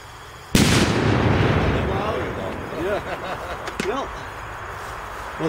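A single sharp, loud blast of potassium perchlorate flash powder, 10.7 grams, goes off suddenly and rumbles away, followed by excited voices talking in the background.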